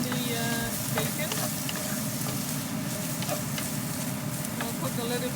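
Onion and bacon fry in a pan for a potato omelette, a dense, constant sizzle close up with occasional faint stirring scrapes and a low rumble beneath.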